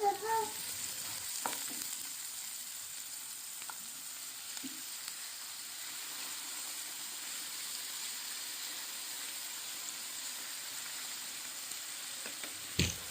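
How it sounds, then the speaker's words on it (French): Onion and meat pieces fry in vegetable oil in a pan for a pan-cooked tajine, a steady soft sizzle throughout with a few faint utensil knocks near the start and end. "je vais faire revenir l'oignon avec les morceaux de viande dans une poêle dans laquelle j'ai ajouté"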